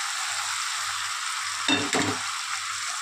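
Boiled lentils tipped into a hot pan with papaya for tarka dal, giving a sudden loud hiss and crackle that swells and then settles back into a steady, quieter sizzle.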